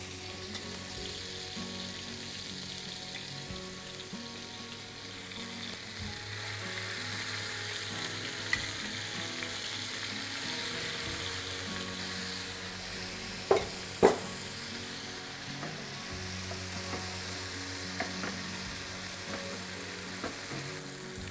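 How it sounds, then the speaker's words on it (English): Fish sears in hot oil in a pan, a loud steady sizzle with stirring scrapes and a couple of sharp utensil clinks midway, no talking. "I'm just going to put the fish, just pan sear it"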